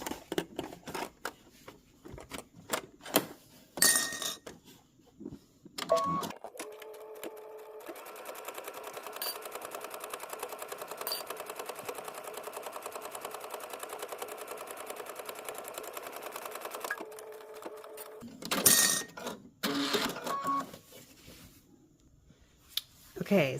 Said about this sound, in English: we can take these to the machine and stitch a 3/8 of an inch seam